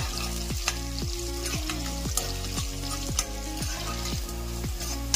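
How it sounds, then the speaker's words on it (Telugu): Onions and green chillies frying to golden brown in a pan for mutton kheema pulao, a soft steady sizzle broken by regular stirring strokes roughly every half second, with no speech. "ఆనియన్ చూసారా గోల్డెన్ బ్రౌన్ కలర్ లో ఫ్రై అయిపోతుందండి"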